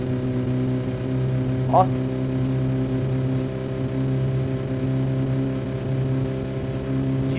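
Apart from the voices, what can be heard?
car engine revving in the video game My Summer Car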